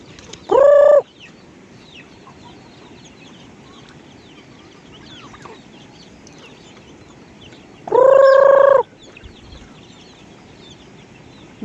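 Chickens kept in a backyard flock at feeding time, with two loud rooster crows standing out near the start and around eight seconds over a steady low bed of clucking hens.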